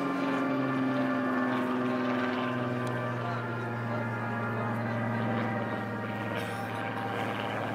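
A Spitfire flies at the Cosford air show, giving a steady propeller drone that holds at moderate distance and fades slightly across the stretch, with no speech over it.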